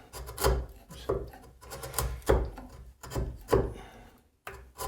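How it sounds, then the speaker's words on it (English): A wide chisel pares and squares the sides of a wooden blind mortise, making a series of rhythmic rasping scrapes about once a second, close up and alone. "if you have a wide chisel to kind of use it like a slick and square up the sides a little bit"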